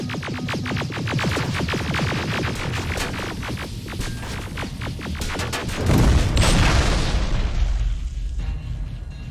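Rapid bursts of gunfire in the video game Terminator: Resistance, with dense volleys of sharp shots. A heavy boom lands about two-thirds through, followed by more scattered firing and a fading rumble.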